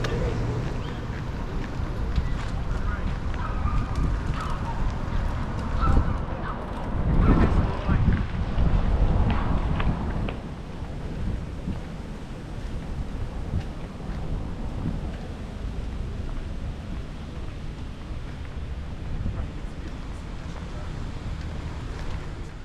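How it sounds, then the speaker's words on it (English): Wind gusts buffet the microphone outdoors in Whistler Upper Village during a walking tour, a steady low roar that swells and rumbles near the start, then settles into a constant blustery hiss. "That's windy outside the front."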